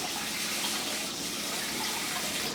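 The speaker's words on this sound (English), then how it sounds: "Just rinsing the grit off of them." A steady gush of tap water pours over polished Lake Superior agate beads to rinse off the polishing grit, an unbroken close rushing and splashing with no speech.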